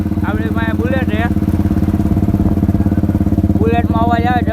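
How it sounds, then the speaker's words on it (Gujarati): A Royal Enfield Bullet motorcycle engine runs at idle close by, a loud, deep, rapid thumping beat that holds steady while people talk over it at the start and end. "બુલેટમાં અવાજ આવે જબરો."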